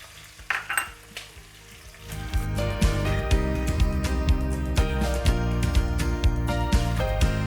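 Green chilies and long-sliced onions drop into hot oil in a pan with bay leaf, sparking a loud, steady sizzle that rises suddenly after a quiet start and keeps crackling close up with occasional stirring clinks.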